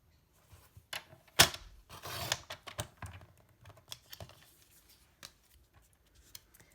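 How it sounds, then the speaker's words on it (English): Cardstock for a fun fold card is trimmed with a cutter or scissors, a crisp swipe followed by small clicks and taps, close and quiet. "I'm going to go ahead and cut this off at 4 inches."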